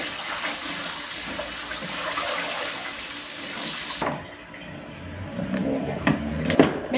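Running tap water pours over freshly picked garden greens being washed in a kitchen sink, a steady hiss that breaks off partway through, followed by wet handling, splashes and clatter nearby.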